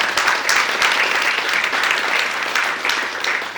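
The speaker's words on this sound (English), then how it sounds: "I would like all of you to clap for yourself" An audience at an Indian associations' domestic violence forum in Western Australia claps for themselves, a full, steady wash of many hands applauding throughout the short stretch, fairly loud and close, with no voices over it.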